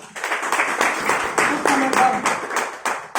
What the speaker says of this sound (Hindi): अपनी टीम, प्यारी टीम के लिए जोरदार तालियां।